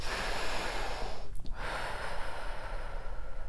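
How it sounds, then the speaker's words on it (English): A single deep breath drawn in close to the microphone makes a loud, airy rush with a brief pause midway, and no talking is heard. "take a breath"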